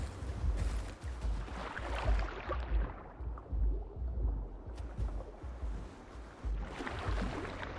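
A dinosaur wades through water in the Path of Titans video game, with steady splashing and sloshing that swells and fades over several seconds, close and moderately loud with no other sounds.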